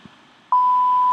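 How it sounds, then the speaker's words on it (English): A phone app notification gives a single sustained electronic beep that sounds suddenly partway through and holds steady and loud to the end. "Notification."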